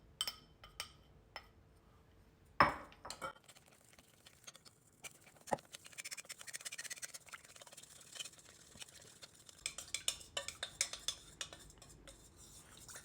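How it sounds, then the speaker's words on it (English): Milk powder being stirred into a cooled chocolate infusion: faint scraping, tapping and clinking of a utensil against a bowl, irregular and close, with one sharper knock early on. "so we're going to add our milk powder. And we're gonna stir that in,"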